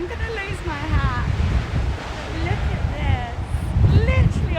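Ocean waves wash onto a shore in windy conditions, a constant rushing surge with heavy wind buffeting the microphone while a person talks over it throughout.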